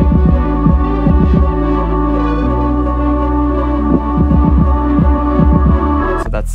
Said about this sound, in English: so I sort of went quickly for just an ascending bass line.